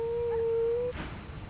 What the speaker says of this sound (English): The dog whines and continues pawing at its nose.